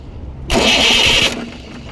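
A motorcycle engine started by directly bridging the ignition wires bursts into life with a loud, close half-second catch, then drops back to a low idle.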